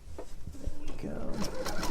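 Sewing machine stitching a quarter-inch seam on a curvy log cabin quilt block, a quick close run of rapid needle clatter lasting about two seconds with a voice talking over it.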